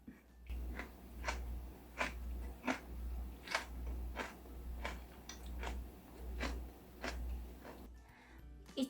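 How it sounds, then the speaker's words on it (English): Crunchy cold bean sprout salad, sweet and sour, chewed steadily with a rhythmic series of crisp crunches, close and distinct, about one bite every half second with no talking. "It's a little sweet, sour, and well-textured salad. Crunch, crunch."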